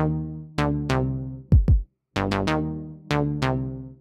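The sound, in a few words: modular synth patch with white noise through resonant low-pass filter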